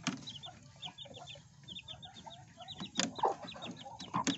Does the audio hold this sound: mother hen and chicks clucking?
yes